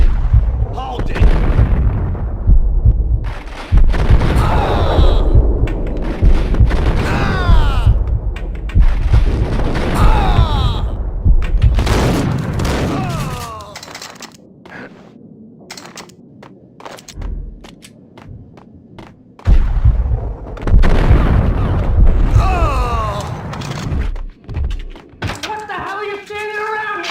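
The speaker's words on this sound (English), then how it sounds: "They're bombing us!" Booming bombing explosions and heavy impacts from a film battle scene, loud and repeated in bursts with quieter gaps between them. Shouting voices are heard among the blasts.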